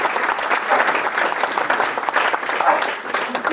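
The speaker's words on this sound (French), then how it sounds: "On peut les applaudir." Steady applause from a debate audience, dense and continuous throughout with no single claps standing out, sustained at an even level from start to finish.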